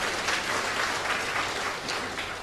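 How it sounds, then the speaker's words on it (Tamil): Steady applause from a comedy debate audience fills the whole stretch, dense and continuous at moderate distance, with no voices over it. "நீலம் மதுமையனுக்கு ஒரு கைத்தட்டல் கொடுக்கலாம்"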